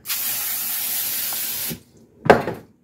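A cooking oil sprayer gives a long, close hiss for almost two seconds, then after a short silence a second, shorter spray burst.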